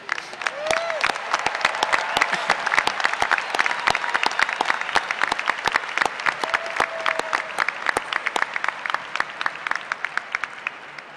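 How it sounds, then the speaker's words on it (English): A large audience applauds graduates at a spring university commencement ceremony, a sustained wash of clapping with sharp individual claps standing out, steady and fairly distant in a big hall. "Let's give them a round of applause."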